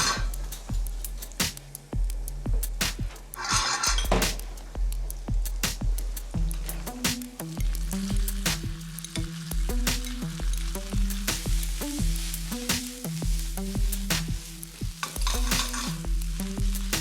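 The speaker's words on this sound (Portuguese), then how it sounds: "Vamos querer fritar bem o arroz" Rice frying and sizzling in a hot pan with ginger and garlic, stirred steadily with repeated scraping knocks of a utensil over a continuous loud sizzle, no talking.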